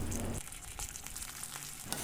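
Long beans tipped into hot oil and spice paste in a pan, giving an immediate loud sizzle that drops to a steady crackling fry with faint stirring clatter, close up and with no speech.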